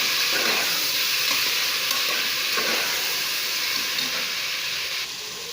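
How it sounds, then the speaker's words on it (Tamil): Chopped tomatoes sautéing in oil in a pan for a cowpea kulambu, a loud continuous sizzle and hiss with stirring scrapes, close up and without talk. "இப்போ நல்லா அந்த எண்ணெயில் வணக்கி விடுங்க."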